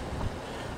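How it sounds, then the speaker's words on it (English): Strong wind at the Stonehenge replica by the Columbia River buffets the microphone in a steady, roaring rush with no pause. "it is really windy around here"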